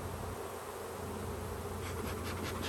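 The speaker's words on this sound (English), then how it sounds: "They start fanning at the top." A large honeybee swarm fans at the top of the hive, a dense, continuous buzzing drone heard up close, steady throughout with a slightly brighter flutter of wings toward the end.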